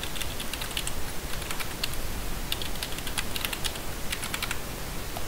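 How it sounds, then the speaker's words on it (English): Fingers typing a password on a computer keyboard, a steady run of light, close plastic key clicks with short pauses between bursts, alone over a faint room hiss. "I'm going to type in the password that I made."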